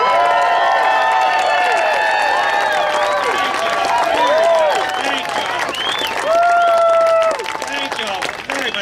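An audience welcoming Governor Bobby Jindal at a Colorado Springs campaign event bursts into sustained applause and cheering, with loud crowd clapping and whoops throughout and voices shouting over it.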